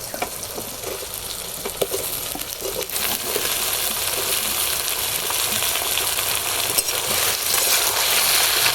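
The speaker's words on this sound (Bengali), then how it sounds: "ধুয়ে রাখা কাঁচকলা আর আলু দিয়ে দিচ্ছি" Green banana and potato pieces hit a hot pan and fry with a steady, loud sizzle that swells after a few seconds, with occasional clinks and scrapes of stirring and no talk.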